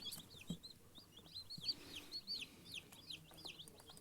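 Quiet, high-pitched cheeping from several small Master Grey and broiler chicks under a warming incandescent lamp, rapid and overlapping, with faint rustling beneath.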